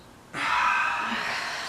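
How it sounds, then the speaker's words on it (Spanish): A single long, forceful breath rushes out through the nose during kapalabhati pranayama, starting abruptly and sustaining as a close, breathy hiss that slowly fades. "Exhalamos."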